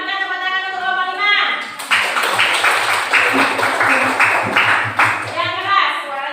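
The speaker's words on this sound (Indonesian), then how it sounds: "Berikan tepuk tangan untuk kelompok 5" A classroom group of children and a teacher clap for group five during a coaching session, a burst of quick, close claps following talk, with voices heard before and after.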